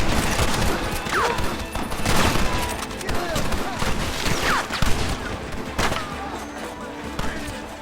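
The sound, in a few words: gunfire in Red Dead Redemption video game shootout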